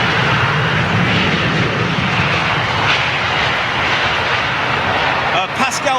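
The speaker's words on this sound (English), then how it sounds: "777-300ER." A Boeing 777-300ER airliner lands in stormy weather at London Heathrow, leading-edge slats deployed, with a loud, broad, steady engine roar close by.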